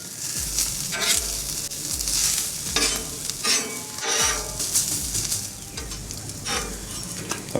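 Bread toasts on a hot Blackstone griddle, a steady sizzle broken by repeated scraping and clinking strokes of a metal spatula on the flat-top, close and without speech.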